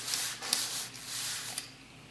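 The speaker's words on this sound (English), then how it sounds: "the Scotch-Brite works really good too, because it tends to get into some of those crevices" A Scotch-Brite pad scrubs the coils of a Schwinn bicycle spring in short back-and-forth strokes, a close, hissing, sandpapery rub with a couple of light knocks and no speech.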